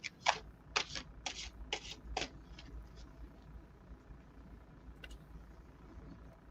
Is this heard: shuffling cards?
yes